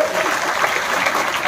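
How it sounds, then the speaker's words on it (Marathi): An audience claps steadily as a student is announced at a results or prize ceremony, a dense, even wash of applause lasting the whole moment. "सगळ्यांनी टाळ्या वाजवायच्या."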